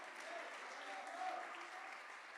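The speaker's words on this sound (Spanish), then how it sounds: "Dele un aplauso de gloria." Applause from a church congregation during an evangelical Sunday service, a steady dense wash of clapping that holds evenly throughout, moderately faint and distant, with a preacher's voice faintly mixed in.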